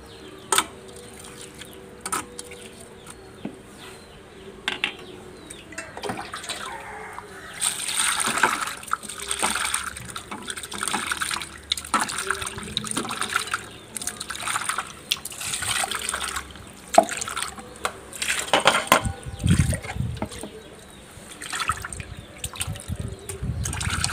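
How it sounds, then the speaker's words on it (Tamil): Water poured and splashed over cleaned shrimp in a pot for rinsing, an uneven run of trickles, splatters and sloshing that swells and fades several times at close range, with occasional drips. "திரும்ப நல்லா தண்ணி ஊற்றி கழுவிக்கிறலாம்."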